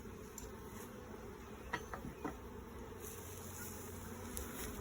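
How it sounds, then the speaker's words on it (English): Honeybees buzz steadily around a beehive, a soft continuous drone with a few individual bees passing close, with no talk over it. "Whoa, more bees."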